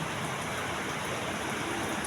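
Rain falls in a steady, soft hiss, a faint, even wash of drops with no other sounds standing out.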